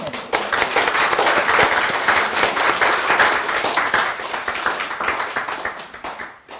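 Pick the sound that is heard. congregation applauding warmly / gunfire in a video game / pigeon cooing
congregation applauding warmly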